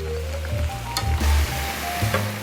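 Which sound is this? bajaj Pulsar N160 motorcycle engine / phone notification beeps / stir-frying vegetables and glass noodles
stir-frying vegetables and glass noodles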